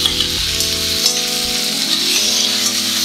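Napolitan pasta ingredients are stir-fried in a frying pan until browned, giving a loud, continuous close-up sizzle with faint stirring scrapes throughout and no voices.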